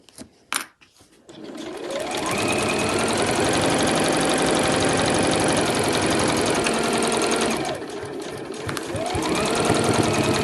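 A sewing machine back-stitching a fabric dust bag seam, loud close mechanical whirring that starts after a few clicks, runs steadily, pauses briefly, then resumes, with no talk.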